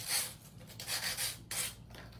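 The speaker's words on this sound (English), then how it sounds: "So now I'm gonna use a 100 by 100 grit hand filer." A 100/100 grit hand file rasps across acrylic nails in short, quick back-and-forth strokes, close and soft, with brief pauses between passes.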